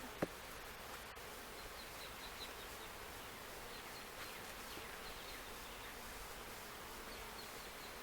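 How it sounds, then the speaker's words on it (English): Honey bees buzzing on a beehive frame during a hive split, a steady soft hum of many insects throughout with no talk. "Plenty of bees on the frame."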